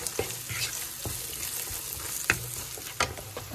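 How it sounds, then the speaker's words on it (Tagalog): Chopped onions frying in a pan with garlic for an egg curry, a steady close sizzle broken by a few stirring clacks and scrapes of a utensil. "Ilagay ko na po itong onions po natin. Na-chop ko na yan ha."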